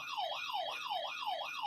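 Emergency siren wails in a fast, regular up-and-down sweep, loud and continuous, cycling about every 0.4 seconds with no voices.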